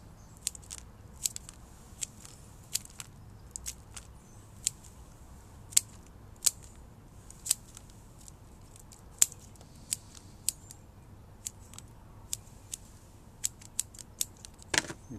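Scissors snipping the roots of a parrot beak bonsai during repotting, a long series of sharp, close clicks at irregular intervals over a quiet background.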